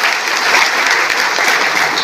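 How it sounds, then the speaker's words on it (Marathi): An audience at a poetry collection launch applauds Joshi sir, a dense, loud wash of many hands clapping at once, sustained evenly for the whole stretch. "आज जोशी सरांसाठी आपण सर्वांनी टाळ्या वाजवलं पाहिजे"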